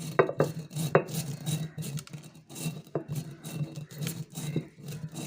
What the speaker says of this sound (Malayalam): ഉലുവ ഒന്ന് ചതച്ച് പൊടിക്കാം.